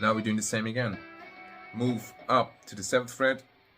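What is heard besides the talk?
No distinct noise like a dog, phone or traffic.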